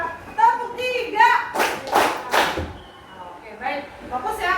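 Children in a classroom clap through a counting routine, with three loud, rhythmic bursts of clapping between stretches of a teacher's spoken instructions.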